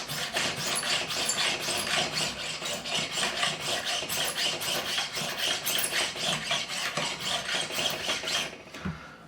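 A metal file rasps over the guitar frets of a Gibson SG in quick, rhythmic back-and-forth strokes, close and steady for about nine seconds before stopping.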